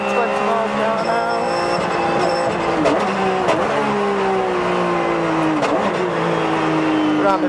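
A Porsche 911 GT3 Cup race car on the Goodwood Festival of Speed hill climbs hard and loud from the onboard view, its engine wailing up through the revs, with gear shifts dropping the pitch several times along the run.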